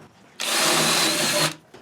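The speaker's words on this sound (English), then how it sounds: "I'm going to first drill some holes" A power drill bores holes for a home mini gym build, one loud sustained whir lasting about a second that starts and stops abruptly, with quieter room noise on either side.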